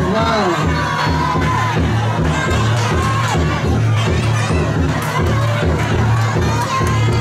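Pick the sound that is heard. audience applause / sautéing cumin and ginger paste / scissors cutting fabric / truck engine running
audience applause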